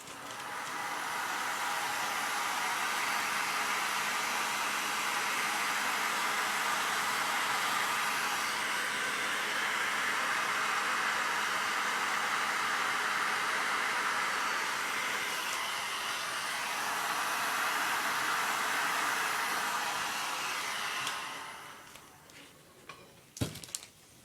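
A heat gun blows a steady, loud airy rush while softening poured resin in a fuchsia, plum and white art piece, running continuously before cutting off near the end with a few faint clicks.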